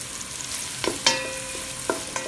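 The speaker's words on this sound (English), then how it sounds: "And just keep stirring." Pancit canton noodles fry in a pan while being stirred, a steady close sizzle broken by a few sharp utensil scrapes and clinks against the pan, with no talk.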